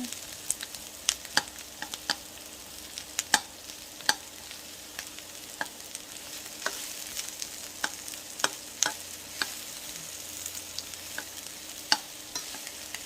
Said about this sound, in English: And now I'm just going to mix these onions up in there.